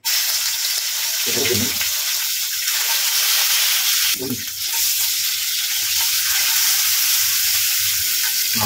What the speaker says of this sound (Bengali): মোটামুটি মাছটা ভাজা হয়ে গেছে